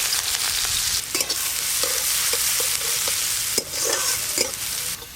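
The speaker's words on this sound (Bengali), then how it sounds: "পেঁয়াজ কুচিগুলো একটু লাল লাল করে ভেজে নিই" Chopped onions fry in hot oil over whole garam masala, a steady sizzle broken by frequent scraping stirs of a spatula against the pan, close and loud with no voices, for a prawn curry.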